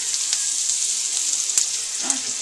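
Beaten eggs hit a hot frittata pan over softened greens and sizzle loudly and steadily, a dense close-up hiss with a few faint clicks and shifts of the pan.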